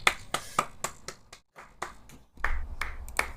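A single person claps their hands a few times during a chat stream, sharp close slaps in an uneven rhythm, separated by a brief silent gap, with no talking.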